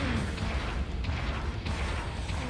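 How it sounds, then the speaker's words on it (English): Explosions in the Gundam Battle Operation 2 mech combat game, a dense rumbling boom with repeated low blasts and crackling debris running continuously through a busy battle soundscape. "that was an explosion"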